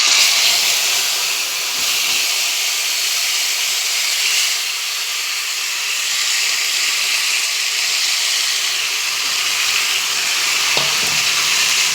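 Marinated katla fish pieces frying in hot oil, a steady, close, loud sizzle and hiss that holds evenly throughout with slight swells, no voices.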